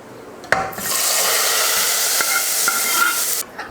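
A sharp clink, then a loud hissing sizzle as a hot oil tempering is poured into sambar, lasting about three seconds before fading, with no talking.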